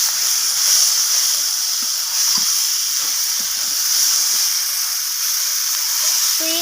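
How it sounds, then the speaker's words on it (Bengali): Pieces of already-fried rohu fish sizzling loudly in spice masala in a pan for a homestyle rohu kalia, a close, steady hiss with small bubbling crackles and a brief clink near the end. "এরপর আমি এখানে ভেজে রাখা মাছগুলোকে মশলার মধ্যে দিয়ে দিলাম, আর মাছগুলোকে আমি মশলার সাথে একটু কষিয়ে নিচ্ছি।"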